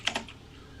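Two or three quick keystrokes on a computer keyboard during coding, close and crisp, then fading into quiet room tone.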